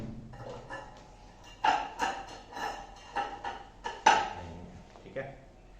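A metal oven grill rack clanks and rattles as it is handled and set in place, a series of sharp close metallic knocks and rings spread irregularly over several seconds.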